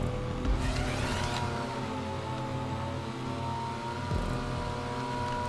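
A Porsche racing a lap race on a snowy course in GTA 5 Online, its engine droning and revving steadily with rising and falling pitch throughout, loud and continuous, with no talk.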